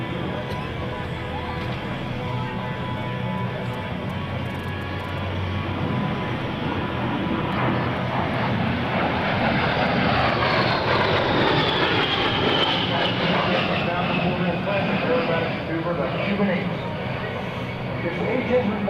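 A-10 Thunderbolt II Warthog jet flying a fast roll demonstration at a military open house airshow: a loud, continuous turbofan roar that swells and shifts pitch as it passes, with a public-address announcer talking over it.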